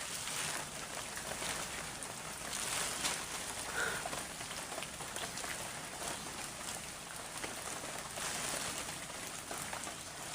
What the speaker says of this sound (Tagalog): Salamat naman at medyo tumila na yung ulan